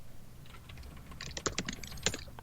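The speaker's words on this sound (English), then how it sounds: "I like how we're just both typing away" Two people typing on computer keyboards side by side, a steady patter of soft key clicks with a few sharper, louder strikes, close by and with no talk.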